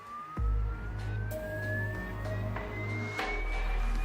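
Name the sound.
sinusoidal test tone from loudspeaker at changing frequencies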